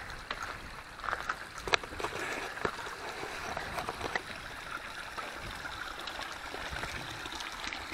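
Creek water flows quietly through rugged, steep Camp Creek Canyon on Yucaipa Ridge, a soft continuous trickle and wash with small splashy clicks, heard faintly from nearby with no voices.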